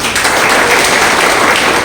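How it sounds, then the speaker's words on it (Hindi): A roomful of people claps loudly and steadily for a team member, a dense, even burst of applause lasting just under two seconds with no pause. "एक बार इनके लिए जोरदार ताली बजाइए।"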